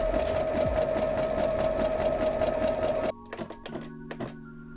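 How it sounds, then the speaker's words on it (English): A sewing machine runs a zigzag stitch along a garment hem, whirring steadily and close for about three seconds, then stopping with a few light mechanical clicks. "I have decided to zigzag stitch all along here"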